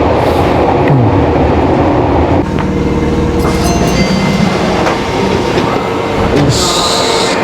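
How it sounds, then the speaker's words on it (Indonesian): An underground subway train in Japan rumbles along at speed with a loud, constant roar, rattling carriages and occasional wheel squeal and clatter, heard from inside the car. "Jadi ini tuh di kereta bawah tanah"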